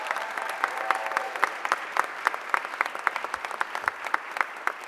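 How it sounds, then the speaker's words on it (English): Applause at a mayor's press conference, a modest group clapping with distinct individual claps audible, steady and fairly close, filling the moment without talk. "give her a huge round of applause"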